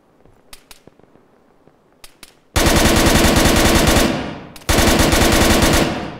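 Gunfire in the military game Arma: a few sparse, sharp single shots, then loud, sustained automatic fire in two long bursts with a short gap between them, close and dominant.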